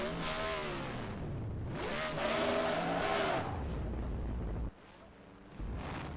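A race car roars through burnouts at Phoenix Raceway, a loud, steady engine blare with rising and falling tones, briefly dropping off near the end before surging again.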